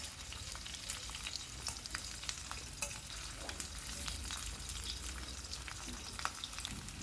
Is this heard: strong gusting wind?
no